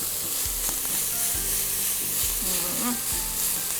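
Ground beef frying in a pan for a baked pasta dish, giving a steady loud sizzle throughout with a few low knocks from stirring.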